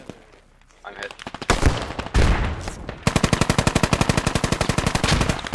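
Heavy gunfire in the military shooter game Squad: loud single shots, then sustained rapid automatic bursts with a steady rhythmic rattle, close and dominant.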